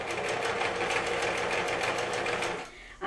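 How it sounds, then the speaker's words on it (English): Sewing machine stitching along the fold line of a quilt, a fast even run of needle beats, close and steady for nearly three seconds before stopping abruptly. "You want to keep your stitching right on that fold line if possible."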